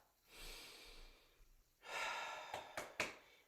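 Several slow breaths, inhales and exhales, come close and soft during a strength flow exercise class, followed by three short sharp sniffs or exhales.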